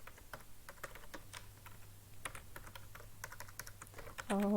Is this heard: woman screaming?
no